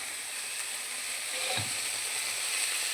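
Food fries in a pan with a soft, steady sizzle and hiss, fairly quiet and close, with a brief stir or clatter partway through.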